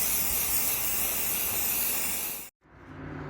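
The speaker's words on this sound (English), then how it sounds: "I need to give this a good coat of self-etching primer" Spray can applying self-etching primer to an aluminum RCA drive-in speaker, a loud continuous close hiss that cuts off abruptly near the end, leaving faint room noise.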